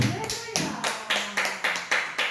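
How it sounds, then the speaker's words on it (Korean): A church congregation at an early-morning prayer service claps in a slow, even rhythm, about eight distinct beats close by, with a voice speaking faintly underneath. "박수 한번 하세요"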